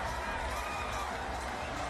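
Stadium crowd at a USA vs Canada rugby World Cup qualifier roaring after a try, a broad sustained wash of cheering and shouting heard from a distance at moderate volume.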